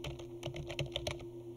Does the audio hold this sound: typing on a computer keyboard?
yes